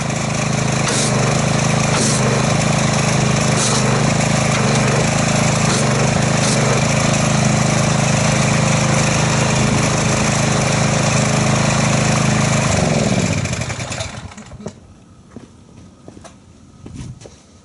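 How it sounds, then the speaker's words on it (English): A pressure washer motor drones loud and steady up close while spraying car wash foam, then shuts off near the end, leaving quieter handling noises. "we'll get our pressure washer and I'll see what kind of foamage we get from that"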